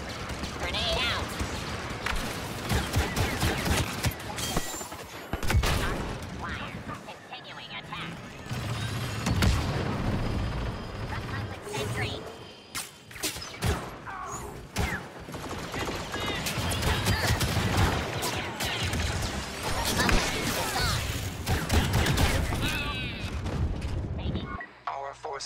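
Grenade blasts and gunfire in the Star Wars Battlefront II beta on PC, a busy game battle with booms, shots and loud effects running throughout, mixed with game voices.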